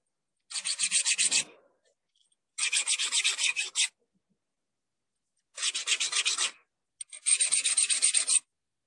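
A sharp edge is deburred by hand with a file: four separate bursts of dry, rasping strokes, close and fairly quiet, with silent pauses between them.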